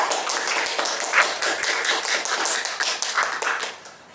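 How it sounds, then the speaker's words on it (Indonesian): Audience applause for an Islamic boarding school leader at a religious talk show: dense, continuous clapping from a crowd, loud and close, fading slightly at the end. "Tepuk tangan dong."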